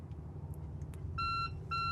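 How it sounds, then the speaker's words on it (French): An audible alarm sounds from the Volvo engine start panel for the port engine of a Hélia 44 boat: two steady electronic beeps, each about a third of a second long, over a low background rumble. "Je vais avoir une alarme sonore."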